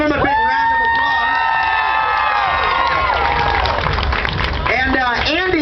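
A crowd at a fair's alligator-wrestling show cheers and whoops loudly and continuously, with excited shouts rising and falling close by, some clapping mixed in, and a voice talking over the noise.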